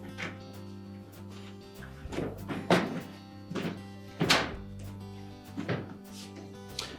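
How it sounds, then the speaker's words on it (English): A series of hollow thunks and plastic knocks as a Whirlpool dishwasher inner door panel is lowered and settled into place, close by, with a low hum underneath. "Lower that inner door panel down into position."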